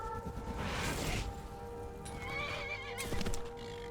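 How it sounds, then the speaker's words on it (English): A horse in Skyrim neighs loudly and close, one drawn-out whinny with hoof clip-clops and a brief swish, over steady game ambience, no talking. "Sometimes this horse is just too fussy"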